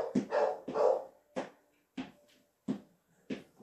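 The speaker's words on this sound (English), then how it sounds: "I don't know if you can hear my dog" A dog barks indoors in a series of six sharp, separate barks spaced irregularly, moderately close and alone without talk.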